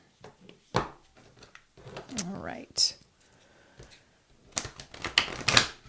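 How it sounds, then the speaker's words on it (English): Oracle cards are shuffled by hand in a series of crisp riffling and tapping bursts, close and fairly loud, with a quiet voice speaking briefly between them. "Let me just shuffle and get this ready for you"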